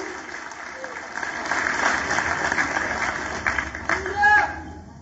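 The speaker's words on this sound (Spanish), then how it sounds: "Denle un aplauso" A church congregation claps in sustained applause at a Spanish-language sermon, a dense wash of hands rising steadily, with a voice speaking over it.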